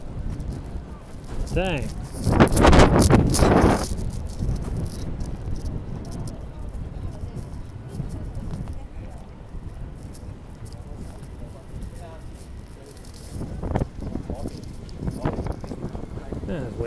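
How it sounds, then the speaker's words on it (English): Outdoor wind in Hong Kong buffets the microphone as a loud, rumbling gust that peaks early, then settles into a steady low roar beneath a person talking. "Oh, here comes the wind."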